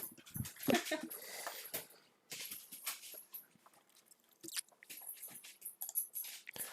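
A frisky dog plays and chews, giving irregular close bites, crunches and mouthing sounds with brief bursts and pauses, plus a faint whimper, heard alone without talk.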